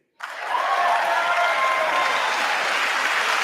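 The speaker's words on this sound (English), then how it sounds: "there's been a lot of applause now" A large audience at the State of the Union address breaks into loud, sustained applause that starts abruptly and holds as a dense wash of clapping.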